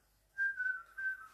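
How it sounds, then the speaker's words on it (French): A person whistles two short, clear high notes, close and fairly soft, alone against a quiet background. "je siffle."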